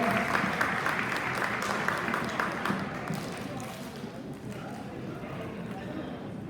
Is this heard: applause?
yes